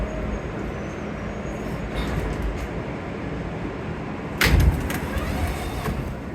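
Times Square subway station platform on New York's 8th Avenue line, serving the A, C and E trains: a steady low rumble of underground ambience, broken midway by a sudden loud metallic clatter and whoosh.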